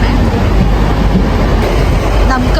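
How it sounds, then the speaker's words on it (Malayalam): A British train pulling into a station platform fills the air with a loud, steady rumble and roar, a continuous wash of wheel and engine noise that drowns out everything else. "നമുക്ക് പോകാനുള്ള ട്രെയിൻ ഇപ്പോൾ വന്നുകൊണ്ടിരിക്കുന്നത്."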